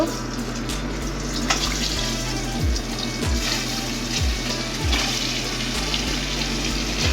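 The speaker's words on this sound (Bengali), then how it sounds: "তেল গরম হয়ে গেছে, ডিম একটা একটা করে ছেড়ে দেব।" Duck eggs dropped one by one into hot oil sputter and hiss in a loud, continuous sizzle, with a faint low rhythmic pulsing beneath.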